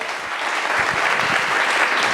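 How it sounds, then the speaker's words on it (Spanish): An audience at a Be Happy festival interview claps in warm, continuous applause, a dense even patter close by, with no voices over it. "un aplauso"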